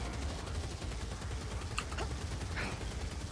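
Rapid gunfire from gunners in a Warhammer video game, dense overlapping bursts forming a continuous crackling barrage at moderate loudness, with a few brief sharper tones cutting through.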